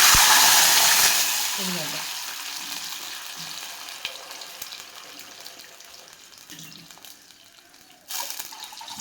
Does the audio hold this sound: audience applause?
no